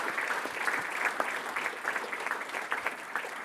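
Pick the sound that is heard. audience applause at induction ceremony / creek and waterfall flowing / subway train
audience applause at induction ceremony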